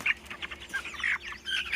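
Several chickens make short clucking and chirping calls in quick, uneven bursts, close by, with no talking.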